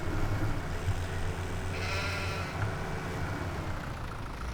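A sheep bleats in a farming survival roleplay game, a short nasal cry standing out over a steady low engine-like drone of machinery.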